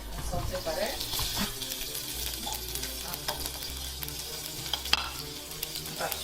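Salted butter for a lasagna white sauce melting in a hot pan, a low steady sizzle with scattered small pops and clinks, close and fairly quiet with a faint low hum beneath.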